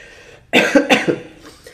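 A person gives a short, harsh cough, two or three quick bursts close to the mic, then it trails off.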